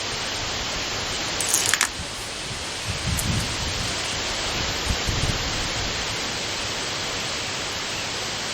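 Wind blowing at an outdoor airgun shooting range, a steady broad hissing rush that fills the whole stretch evenly, with a few brief gusty buffets against the microphone, loud and close with no talking.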